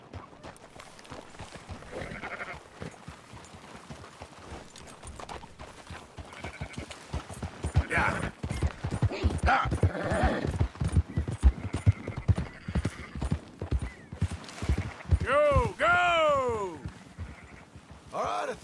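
Horse hooves clip-clop steadily as a rider herds scattered sheep in the video game Red Dead Redemption II, with several loud, wavering sheep bleats rising near the end.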